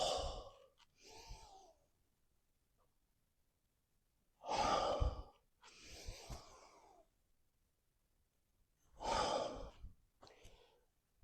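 Deep, forceful breathing from an Isshin-Ryu karate exercise, with three strong inhale-exhale cycles, each loud breath burst followed by a softer release, separated by quiet pauses and heard up close.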